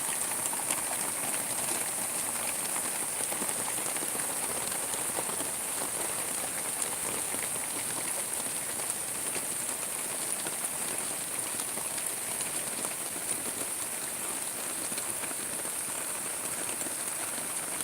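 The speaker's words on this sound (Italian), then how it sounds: "Finalmente, ragazzi, la pioggia ci voleva" Steady rain falls in Salerno, Campania, pattering continuously on surfaces for a long stretch with a constant hiss and scattered drop ticks, no talking.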